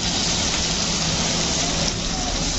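Steady, loud sizzling hiss of prawns sautéing with green chilli and curry leaves in hot oil for a fish curry meal, continuous and even throughout with no talking.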